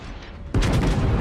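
Guns of the cruiser Colorado firing in a naval warship game, a sudden loud blast that jumps in after quiet and holds as a sustained roaring rumble with crackling bursts.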